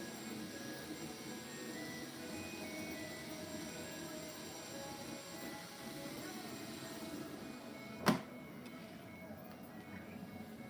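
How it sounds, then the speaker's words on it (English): A 3D printer running and vibrating, a steady mechanical hum with tonal motor whine over a rumbling drone, continuous throughout, with one sharp click or knock near the end. "see how the whole printer is vibrating a little bit."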